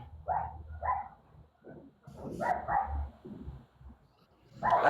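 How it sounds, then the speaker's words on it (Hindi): Dogs barking in irregular bursts, a few sharp woofs close together, then another cluster and a final bark, moderately near and loud with no talk over them. "यार किसी के कुत्ते भौंक रहे हैं।"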